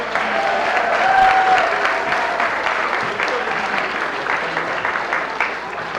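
An audience applauding a school group at a school committee meeting, sustained dense clapping throughout, loud and close, with faint voices mixed in.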